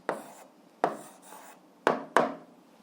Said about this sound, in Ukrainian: Давайте я тут запишу. Записуємо відповідь.